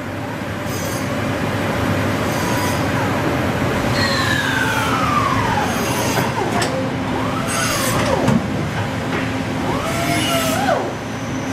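A 2008 Doosan Puma VT900M vertical lathe spindle running at high RPM in first gear, a steady loud whirring drone with rising and falling tonal whines and occasional squeals throughout.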